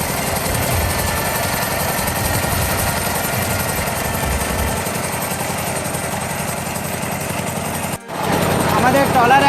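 A trawler boat's engine chugs steadily and loudly as the boat moves slowly along the Panguchi river in Bangladesh, a close rattling drone with a brief dip near the end.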